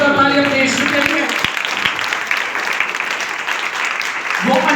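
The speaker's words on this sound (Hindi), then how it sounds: "जोरदार तालियां अपने यीशु के लिए।" A church congregation applauds loudly at a Hindi-language worship service, a steady wash of clapping filling the room for several seconds while voices call out over it.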